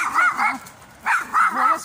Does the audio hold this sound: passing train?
no